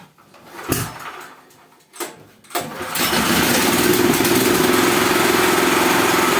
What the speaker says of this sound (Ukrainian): Заводиться чітко, нема що казати.